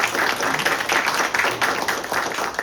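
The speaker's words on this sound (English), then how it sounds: "So I think that deserves a round of applause." A modest crowd at a water donation campaign kickoff gives a short round of clapping, uneven and fairly close, lasting under three seconds.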